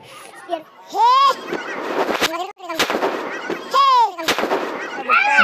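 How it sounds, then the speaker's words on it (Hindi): Several loud, sharp bangs of a sutli bomb firecracker ring out during Diwali, spaced a second or two apart, while children shout and talk excitedly between the blasts. "सुतली बम जलाता है"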